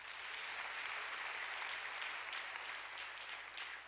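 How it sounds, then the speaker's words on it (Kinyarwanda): A church congregation claps together in a steady, dense burst of applause that runs unbroken throughout, sounding moderately distant, with no voices standing out. "ni munyemere tuyikomera amashyi"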